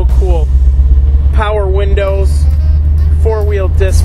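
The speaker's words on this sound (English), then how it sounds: "Alright, Aubrey, let's go for a ride in this hot little 34." A 1934 Ford street rod with a Chevy engine drives along with a steady low engine rumble inside the cabin, while people talk over it.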